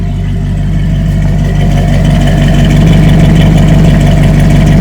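A 1967 Chevrolet KC10 barn-find truck idles with a steady, loud, low rumbling engine note that holds even and close throughout, with no talking.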